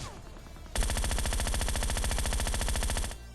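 A Groza rifle in the Scarfall 2.0 battle royale game on the Mumbai map fires one sustained rapid automatic burst of about two and a half seconds, loud and close, with quiet before and after.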